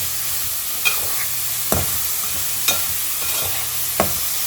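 Coriander powder being stirred into carrot fried rice frying in a pan, with a steady low sizzle under several distinct scrapes and taps of the spoon against the pan at irregular intervals.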